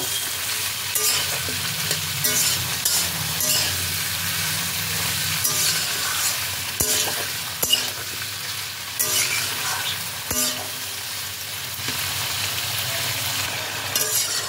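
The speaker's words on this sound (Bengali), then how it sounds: "কড়াইশুঁটি, এই সব কিছু দিয়ে আবারও এটাকে আমি তেলের মধ্যে ভালো করে ফ্রাই করে নেব।" Mixed vegetables with peas fry in oil in a pan (kadai), giving a loud continuous sizzle with stirring scrapes and a few light clinks throughout, with no speech.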